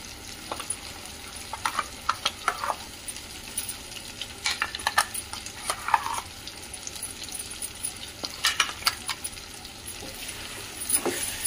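Eggplant masala curry sizzling and frying in oil while being stirred, with steady crackle and frequent sharp scrapes and clinks of the spoon against the pan, close and continuous without talk.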